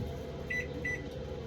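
A microwave oven heating tortillas gives two quick beeps over a steady low hum, the beeps faint and clear against the kitchen background.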